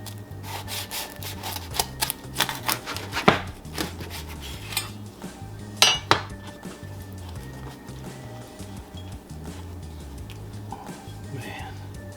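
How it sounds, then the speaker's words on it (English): A knife saws and scrapes through a smoked bacon cheeseburger with mushroom and Swiss on a board, producing soft rubbing strokes and a few sharp clinks, fairly quiet and close. "let's cut this beast open."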